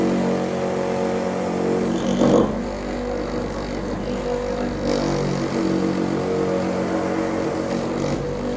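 An electric motor-driven hole-punching machine hums steadily at close range, a constant mechanical drone with a brief louder clunk partway through, no talk.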